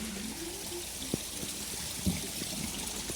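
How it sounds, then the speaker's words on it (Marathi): Water trickles steadily from a natural spring in the Konkan countryside, a continuous close hiss broken by a couple of soft clicks. "तर त्यासाठी हे इथे झरे आहे."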